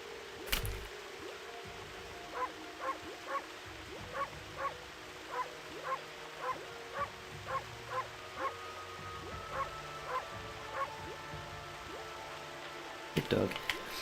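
A dog barks in a steady series of about fifteen short, evenly spaced yips at moderate volume over a low background hum, with louder bursts at the very start and end.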